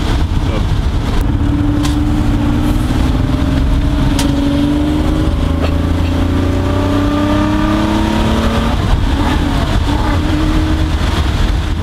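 A Porsche 911 2.7L Targa idles with a steady, low exhaust rumble whose tone shifts slightly as it settles, close and continuous, while someone talks over it.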